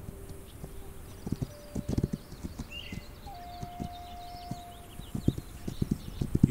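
Horse hooves clip-clop in a steady rhythm in the Western video game This Land Is My Land, moderately close, with soft game ambience and a voice talking over them.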